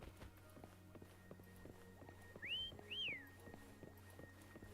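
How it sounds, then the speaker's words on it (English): In the video game Wuthering Waves, a character whistles twice, each a short rising-then-falling note, over steady rhythmic footsteps and quiet game ambience. "Why don't you call Foam over? Try whistling."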